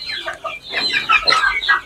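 Desi chickens on a small farm cluck and chatter in a quick, busy burst of overlapping calls, close and fairly loud, with no talking.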